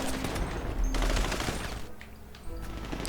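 Rapid bursts of gunfire in GTA V (FiveM) crackle in quick succession, pistols among them, fairly loud with dense overlapping shots and brief lulls.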